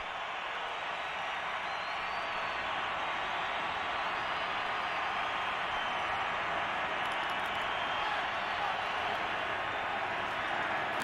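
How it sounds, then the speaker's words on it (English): Stadium crowd at a Denver Broncos home game against the Raiders in 2014, a steady loud roar of cheering that holds evenly throughout with no break. "And here comes the Denver crowd."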